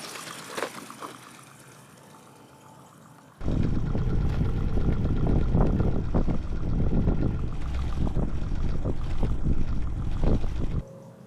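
A Stirling engine fitted to a bicycle runs with a loud, steady broadband whir. It cuts in abruptly after a few quiet seconds and carries on almost to the end.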